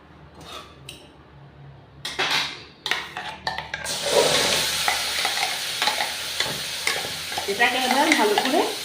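Ground yardlong bean paste, seasoned with salt and turmeric, being stirred and fried in a pan, with scattered spoon scrapes and clatter at first, then a steady loud sizzle under continued stirring, no voices.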